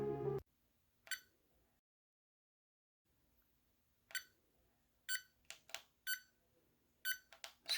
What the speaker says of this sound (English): EMF meter did start beeping